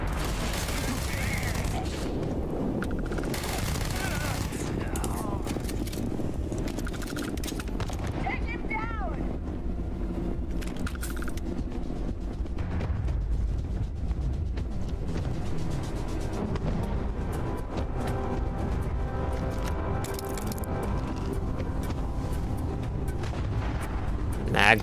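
Weapon fire in the Starfield video game from a gun with almost no recoil comes as bursts of shots amid game effects and ambience, and a player talks over parts of it.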